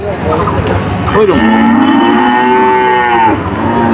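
Cattle at a Bangladeshi cow market in Udaypur, Bagerhat, lowing close by: one long drawn-out moo rises and holds for about two seconds over a steady crowd murmur and background market noise.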